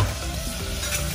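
Tomatoes and onions sautéing together for a moong dal curry, giving a dense, loud, continuous sizzle close up with no pauses and no voices.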